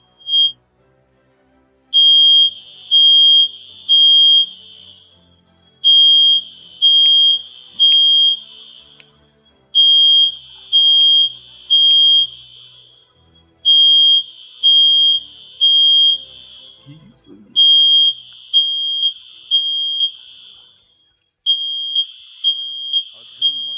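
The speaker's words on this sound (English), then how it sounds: "Fire alarm's going off." A fire alarm beeps in repeated bursts of high-pitched electronic chirps, four or five per group, cycling steadily and loudly throughout, with faint talk in the background.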